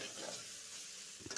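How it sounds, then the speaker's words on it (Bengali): Ground cumin and coriander frying with ginger in a pan for a vegetarian papaya and potato curry, a quiet steady sizzle with a couple of brief stirring scrapes near the end. "মশলাটা ভাজা ভাজা হয়ে গেছে"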